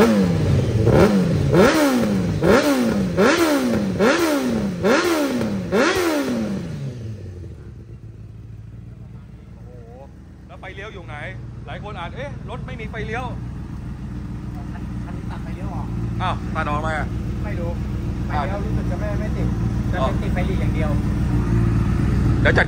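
A Honda CBR1000RR sport motorcycle with about 24,000 km on it revs sharply several times in quick rhythmic bursts, then settles into a low idle while someone talks over it.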